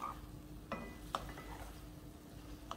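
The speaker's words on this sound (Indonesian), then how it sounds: "Aduk-aduk lagi." Meatballs being stirred in a pan with sweet soy sauce and a little powdered broth, a soft scrape and clink of utensil against the pan with faint sizzling, close and quiet throughout.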